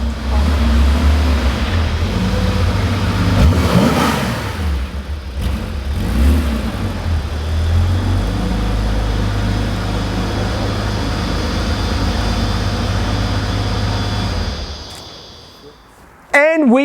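A Porsche 911 2.8 RSR engine runs hard on a dyno, holding a loud, sustained roar with rising and falling pitch before it drops away near the end.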